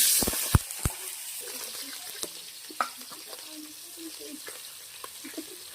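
Cumin seeds and green chilies crackle in hot oil in a home kitchen pan: a few sharp pops near the start, then a faint, scattered sizzle with light clinks, close and quiet.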